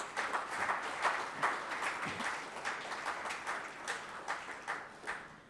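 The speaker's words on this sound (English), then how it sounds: "a big round of applause and cheers for all the women in this house" A moderate round of applause from an audience at a talk by a young mountaineer, uneven clapping with distinct individual claps over a few seconds.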